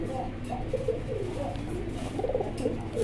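Pigeons cooing in a group kept for sale, with soft, repeated throaty coos over a steady low murmur of background activity.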